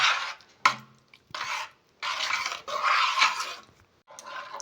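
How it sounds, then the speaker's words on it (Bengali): Date-palm jaggery being stirred into hot milk payesh in a pot, repeated close scraping sweeps of a spoon in separate bursts with brief pauses between them, no talk. "গুড় দিয়ে ভালো করে এটা মিশিয়ে নেব"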